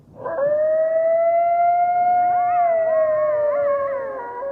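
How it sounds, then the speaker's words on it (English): A coyote gives a long, rising howl that holds steady, then wavers and splits into quavering tones near the end, clear and fairly close against a quiet background. "The howl and bark of a coyote is really unique and can almost be a little haunting"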